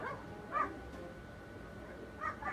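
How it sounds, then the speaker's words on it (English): Dogs give two short, faint barks or yips about two seconds apart, at a distance over a quiet indoor background. "annoying that my dogs are barking"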